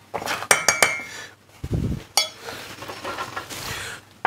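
Asparagus is placed into a vitaliseur steamer pot while a buddha bowl with buckwheat is being cooked. Short clinks of metal and dishes and a muffled thud sound up close, alone with no talking.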